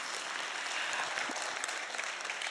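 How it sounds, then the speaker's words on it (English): An audience at an Indigenous speaking event applauds in a dense, even wash of clapping that holds steady for a couple of seconds without voices standing out. "let's clap."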